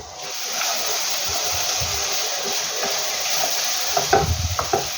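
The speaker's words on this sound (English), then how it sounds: "add your whole spices into the pan" Whole spices are dropped into a hot pan of browning onions for a Pakistani/Indian beef curry and sizzle loudly and steadily, with a few stirring clatters near the end and no talking.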